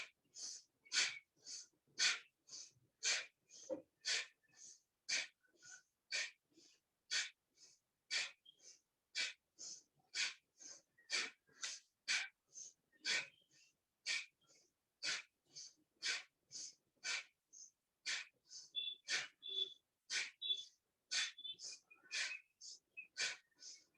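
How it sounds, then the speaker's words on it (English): Forceful Bhastrika pranayama breathing strokes, a rapid, steady series of about forty sharp, loud exhalation and inhalation bursts, closely miked and evenly paced, with no talking. "Now last round of Bhastrika pranayam"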